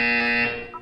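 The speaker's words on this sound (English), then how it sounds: "When you hear the buzzer, look up at the ceiling." An electronic buzzer from the video game Portal 2 sounds once: a short, loud, steady tone that fades quickly, with no talking.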